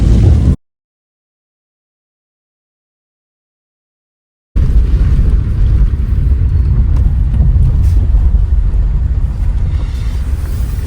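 Strong typhoon wind in Mindoro roars and buffets the microphone with a loud, steady rumble, broken by a few seconds of dead silence near the start before the gusting resumes.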